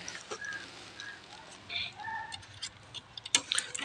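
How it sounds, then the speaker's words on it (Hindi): Soft bird calls from pet pigeons come and go over a low background hum, with a few faint clicks and taps nearby. "इधर हैं हमारे प्यारे प्यारे कबूतर"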